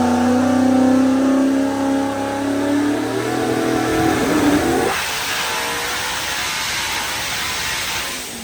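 The turbocharged engine of a 2014 COPO Camaro revs loud and steady up close, climbing in pitch and then dropping off as the throttle closes, with a dense mechanical roar throughout.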